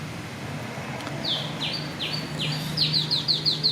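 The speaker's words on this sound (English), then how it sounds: "Wow, beautiful sound of the bird." Birds sing outdoors in a natural setting, a series of bright, rapid chirps and short falling whistles repeating over a quiet background hum, growing busier toward the end.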